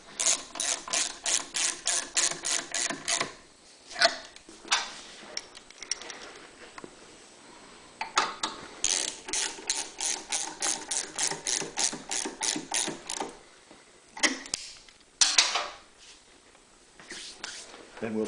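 Bottom studs are being reinstalled on a Honda EU3000iS generator with a ratchet, giving rapid bursts of close, crisp clicking interrupted by short pauses and a few louder clunks.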